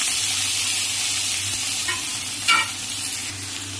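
Green banana pieces with their peel hit a hot pan of oil, nigella seeds and green chilli, and a steady sizzle runs under a few sharp scraping stirs.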